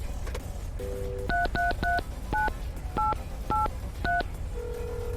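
A telephone in the video game Mon Bazou sounds a quick run of about ten keypad dialing beeps in short uneven bursts, bracketed by two longer steady tones over a low background hum.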